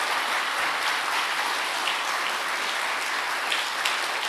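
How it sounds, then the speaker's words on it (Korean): A church congregation applauds their pastor during an invited worship service, a dense, steady wash of many hands clapping at once, loud and even throughout with no talking over it. "수고한다고 우리 스승 되신 목회자에게도 박수."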